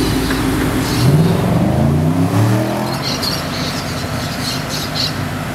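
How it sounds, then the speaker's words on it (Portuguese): A Dodge Challenger Hellcat V8 doing a burnout in Curitiba, Brazil, its engine revving loud and close in rising and falling sweeps, with a continuous roar and tire squeal throughout. "Dodge Challenger Hellcat"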